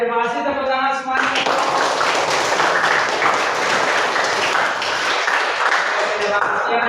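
A classroom of students breaks into sustained applause, many hands clapping densely and loudly for several seconds after a brief moment of talk.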